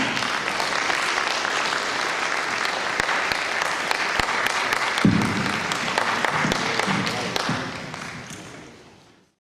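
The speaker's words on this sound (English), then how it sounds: "I would take that round of applause." Dense, sustained applause fills a hall at a Nigerian pharmaceutical manufacturers' program event, loud and continuous before fading out toward the end, with a few thuds and faint voices beneath.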